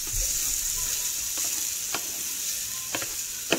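Red peppers and onions sauté in a pan of bacon fat with a close, steady sizzle, broken by a few crisp stirring scrapes and clicks.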